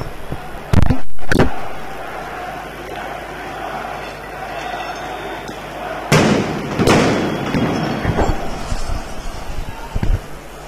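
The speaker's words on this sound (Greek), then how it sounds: "Και αυτή τη στιγμή πολλαπλές εκρήξεις ακούγονται," Tear gas canisters burst at a street protest during a general strike march in Greece, several loud sharp bangs and thuds standing out from a constant crowd and street roar, some close and some farther off.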